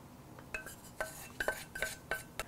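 Garlic stirred into a tomato coconut dip in a bowl, a spoon clinking and tapping against the dish in a run of short, light knocks, quiet and close with no talking.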